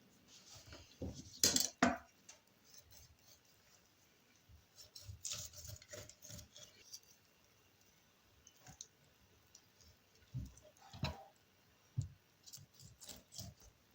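A knife cuts raw rabbit meat into portion-sized pieces on a board, with quiet irregular clicks, taps and soft chopping knocks at close range and a couple of sharper cuts.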